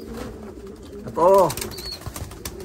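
Young pigeons in Pensacola, Florida give a short burst of wing flapping, close and fairly loud, amid faint cooing and someone talking.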